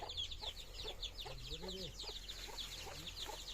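Farm chickens cluck repeatedly at close range with a steady rhythm, along with other bird calls and a low background hum.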